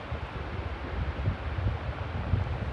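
Wind buffets a microphone outdoors on the open Patagonian plain near Mount Fitz Roy, producing a continuous low rumbling roar with gusty swells and no voices.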